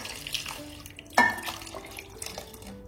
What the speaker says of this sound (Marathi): त्याच कुकरमध्ये जरा गरम पाणी करून घेतलं आणि तेही टाकायचंय